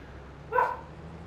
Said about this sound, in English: She's barking at the neighbor's cats.